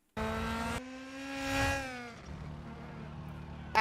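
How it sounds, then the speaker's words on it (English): Engine of a rally car driving flat out in a WRC video game, a loud steady tonal whine with a gear change, then fading to a quieter rumble. "That was a car flat out, probably fifth gear."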